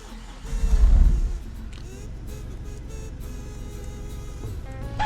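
A first-generation Smart Forfour diesel engine cranks and catches with a short loud rumbling burst, then settles into a low steady idle heard from inside the car.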